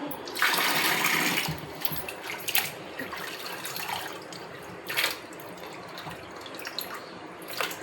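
Water splashes and pours in uneven bursts close by while rinsing kavalai fish, with a longer gush at the start and shorter splashes after.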